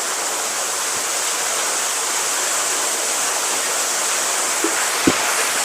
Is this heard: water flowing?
yes